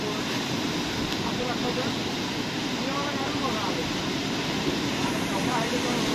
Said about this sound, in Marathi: लाटा बघा कसल्या येत आहेत तिथे.